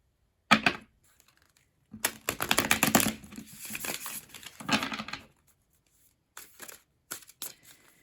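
Tarot cards riffle and flutter in several quick bursts of shuffling, crisp and close, with short pauses between.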